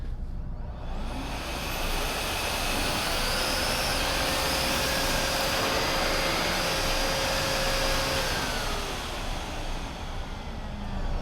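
A Miele C1 Classic Turbo canister vacuum cleaner runs at a steady, smooth whoosh with a faint tonal whine, heard continuously from about a meter away without speech.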